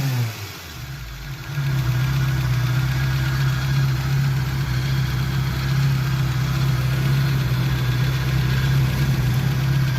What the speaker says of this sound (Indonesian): Untuk tahun 91 ini mantap banget mesinnya.